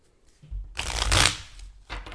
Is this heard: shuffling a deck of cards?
yes